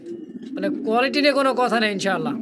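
A pair of Indonesian Holy Cooper pigeons coos in soft low rolling calls, close by, while someone talks over them.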